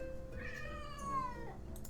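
A cat meows in one drawn-out, rising-then-falling call, fairly close, over a faint background hum.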